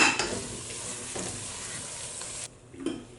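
Tomato and yogurt masala for Kerala-style chicken biriyani being stirred and sautéed in a pan, with a steady close sizzle, a few scraping strokes and a brief clink of the utensil.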